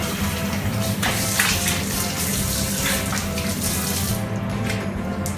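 Tap water runs steadily into a basin while someone washes their face with a honey and Indian gooseberry soap, a close, continuous splashing rush with small surges of hands moving through the stream.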